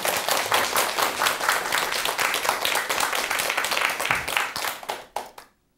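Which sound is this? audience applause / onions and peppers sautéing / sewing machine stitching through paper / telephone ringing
audience applause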